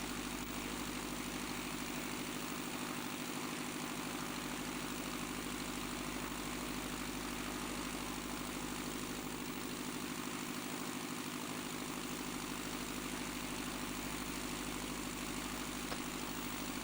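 Aerosport Scamp G-BKPB light aircraft engine with a Hoffman propeller, cruising at about 2,800 rpm, a loud steady drone with a strong constant hum, continuous and unbroken with no speech.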